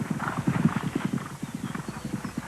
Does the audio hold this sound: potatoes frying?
no